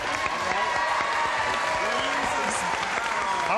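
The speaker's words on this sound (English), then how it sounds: "would you all join me in a brisk round of applause" Studio audience applause on a 1984 Match Game–Hollywood Squares Hour taping, a full steady roar of clapping with cheering voices and a voice talking over it as the two players are greeted.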